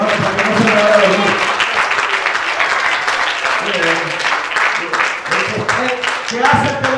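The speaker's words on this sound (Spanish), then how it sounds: "Den un fuerte aplauso a Cristo, hermano" A church congregation applauds Christ during a sermon, a sustained wash of clapping from many hands that runs throughout, with a voice talking and calling out over it.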